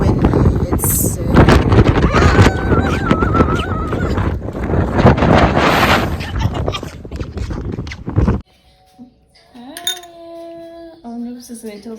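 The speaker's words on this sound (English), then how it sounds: "It's so windy." Strong wind buffets the microphone during a walk, a loud continuous roar and rumble that lasts about eight seconds and then drops away abruptly to near quiet with a few faint tonal sounds.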